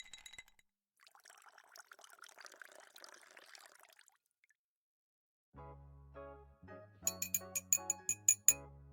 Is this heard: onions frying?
no